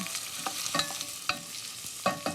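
Mild stock vegetables such as onions and celery browning in oil in a pot sizzle steadily, with several sharp clacks of a utensil stirring against the pot and no voices.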